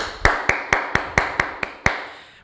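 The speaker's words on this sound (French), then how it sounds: "Et on s'applaudit, bravo." A class of students applauds in unison during a rugby lesson, eight sharp, evenly spaced claps ringing out close by and loud in a steady rhythm, with no talking.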